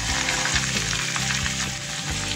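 Chopped vegetables, raw pumpkin and green peas sizzle in mustard oil in a wok, a loud close crackling hiss with small bursts and pops running steadily throughout.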